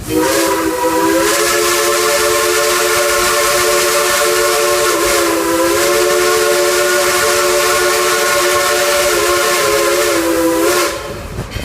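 A loud, sustained steam whistle from a coal-fired 2-8-2 steam locomotive, the Dollywood Express No. 192, blows steadily for several seconds with hissing steam, then cuts off near the end.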